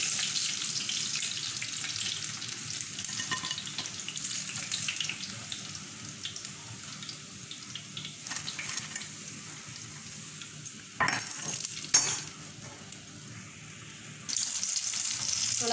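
Chilli bajji frying in oil, a soft continuous sizzle and bubbling hiss that holds steady, broken near the end by a few louder clatters and scrapes before the frying noise swells again.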